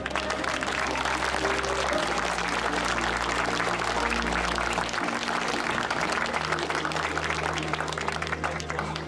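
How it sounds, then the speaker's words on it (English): A crowd at a railway anniversary celebration at a railway museum gives sustained, dense applause, with a low steady hum running beneath the clapping. "Let's all give a great big round of applause to Kath Beck."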